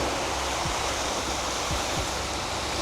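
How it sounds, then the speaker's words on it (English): Wind buffets a beach while waves splash, a loud, steady wash of broadband roar that never lets up, with a few faint low thumps underneath. "It is very windy, also very breezy, and the waves are splashing."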